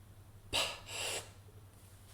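One person demonstrates breathing: a sharp, quick gasping inhale, then a longer airy sighing exhale, close and fairly soft against a quiet room hum.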